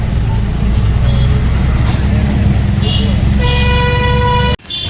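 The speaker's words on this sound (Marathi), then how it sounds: "फुल ट्रॅफिक आहे, फुल ट्रॅफिक. रस्त्याचं काम चालू आहे म्हणून त्यासाठी ट्रॅफिक आहे." Vehicles sit backed up in a traffic jam caused by road work, with a steady engine rumble, occasional horn toots near and far, and a person talking over the noise.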